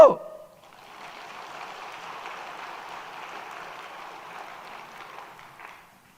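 A church congregation applauds during a Sunday sermon, a steady wash of clapping that lasts several seconds, moderately loud and without speech, after a brief sound at the very start.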